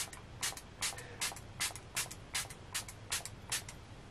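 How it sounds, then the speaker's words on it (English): Repeated short hissing sprays of makeup setting spray onto a face in a steady rhythm, about two per second, soft and close, with nothing else audible. "And I spray my face, and I'm done."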